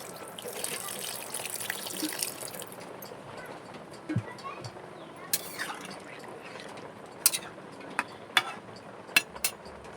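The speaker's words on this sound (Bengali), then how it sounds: "আর একটু ঝোল দিয়ে দেবো।" Broth poured into simmering fish curry in a pot makes a close, hissing trickle and splash for the first few seconds, followed by quieter bubbling with scattered sharp clinks.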